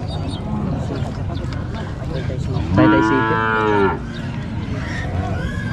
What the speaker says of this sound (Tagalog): Yung dati nating kalabaw.